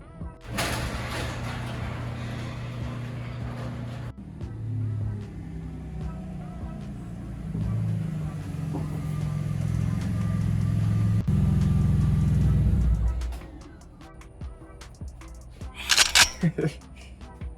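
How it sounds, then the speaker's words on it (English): A BMW E46 is driven into a garage, its engine rumbling close by and swelling as it rolls in, followed by a door-like clatter and a few sharp knocks near the end. "let's go get my car, pull it in, do the maiden lift"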